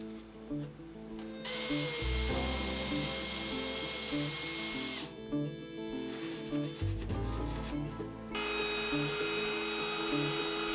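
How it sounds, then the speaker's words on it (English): A small handheld drill bores holes for model railroad switch machines, with a high whine in short bursts that stops and starts several times, close and fairly quiet. "I decided it would probably work better to drill the switch machines for each of the holes and then pin them all in place at once"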